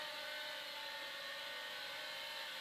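A remote-controlled helicopter flown with a Spektrum DX5e transmitter gives a steady, even, high-pitched rotor and motor whine that holds constant throughout, fairly faint, with no talk.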